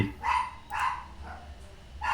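A dog barks repeatedly indoors, four or five loud close barks spaced about half a second apart, with no talking over them.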